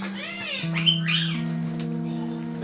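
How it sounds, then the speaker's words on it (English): A parrot in a house gives a couple of squawky, chattering calls over a steady low tonal hum, close and fairly loud. "Is that a parrot?"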